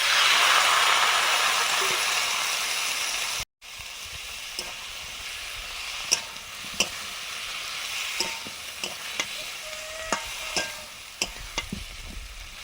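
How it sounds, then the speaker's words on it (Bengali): Cumin and coriander paste frying in a pan, starting as a loud hiss and sizzle that cuts out briefly, then a softer steady sizzle broken by sharp scraping clicks of a stirring spoon. "জিরে ধনে বাটা দিয়ে দিচ্ছি এখন।"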